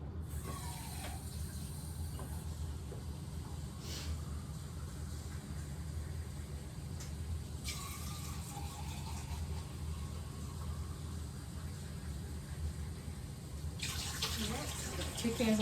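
Two cans of water poured into a chicken and rice dish with French onion soup, a steady trickling splash lasting several seconds with faint kitchen clatter.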